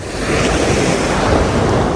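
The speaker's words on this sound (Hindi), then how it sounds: "बढ़िया लहरें।" Ocean surf rolling onto the shore at English Bay beach in Vancouver at sunset, a steady loud wash of breaking waves mixed with wind buffeting the microphone, continuous with no voices.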